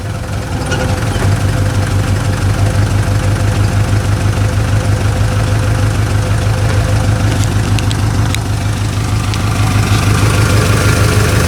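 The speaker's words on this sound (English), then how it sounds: "we'll start it up and show you how the engine runs" A 1972 Saab 95 wagon's old engine idles steadily up close, a continuous low rumbling throb with a faint knocking texture that holds even for the whole stretch.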